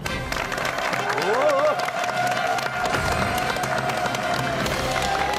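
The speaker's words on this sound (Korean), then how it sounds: "박수로 환영해 주십시오." A television studio audience bursts into sustained applause and cheering, loud and continuous, with a voice rising briefly over the clapping.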